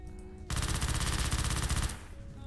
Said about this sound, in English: Automatic weapons feel pretty good.